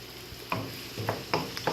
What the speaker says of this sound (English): while we're letting these guys saute a little bit